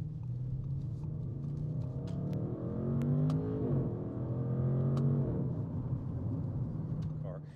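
An Audi RS6 with mods burbles with a low, steady V8 rumble from inside the car while driving, heard under people talking.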